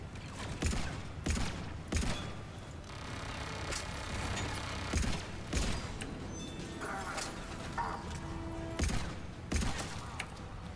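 Bursts of gunfire ring out during combat in the video game Mass Effect 3, several sharp shots spaced a second or two apart over a constant battle din, with some talk in between.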